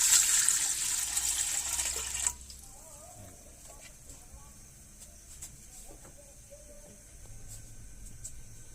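Water pours into a cooking pot set on a gas stove for moong dal, a loud close rush lasting a couple of seconds before stopping, followed by quiet background noise.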